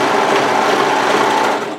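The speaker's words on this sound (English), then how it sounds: "So for me, what I'm going to do is just overlock" An overlocker serges a 2 cm hem along the edge of a sweater's fabric, making a loud, steady high-speed whirring stitch that runs continuously and then tapers off at the end, with no talking.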